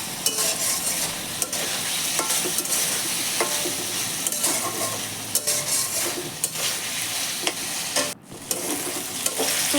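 Spiced watermelon rind curry being stirred in a pan, a steady scraping and stirring over a constant sizzle that runs near and loud for the whole stretch with no talking and one brief dip.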